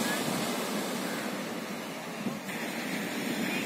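Surf washes in steadily on Gokarna beach as a continuous broadband rush of breaking waves, with some wind across the microphone and no talking.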